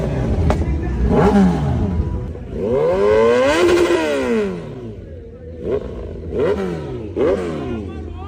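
A superbike engine revs hard and close, climbing and falling through several loud throttle blips over a steady idle, with no talk over it.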